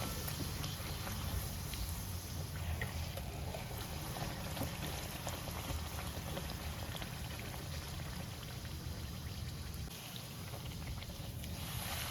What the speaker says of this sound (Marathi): ह्याच पद्धतीने सगळ्या पुऱ्या तळून घ्यायच्या